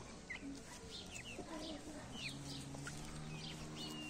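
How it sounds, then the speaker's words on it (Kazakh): A hen clucks in a farmyard, with soft bird calls and other fowl around it, the sounds faint against a steady background hum. "Бұл тауық"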